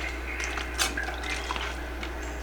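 Water drips and trickles close by as moss is moistened for a moss pole, a short run of small wet drops and splashes ending in a sharp knock.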